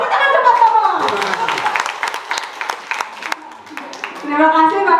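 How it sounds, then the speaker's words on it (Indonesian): Audience clapping in a school workshop on primary numeracy, steady hand claps over several seconds with voices talking throughout. "tepuk tangan teman-teman"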